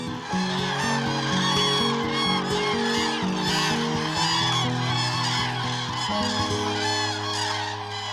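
Loud, continuous chorus of trumpeting calls from a flock of common cranes, many overlapping honking voices, nearby and steady throughout.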